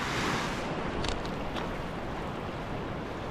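Waves washing onto a beach along the Norfolk Coast path, a broad, close, steady surf roar with gusty wind noise on the microphone throughout.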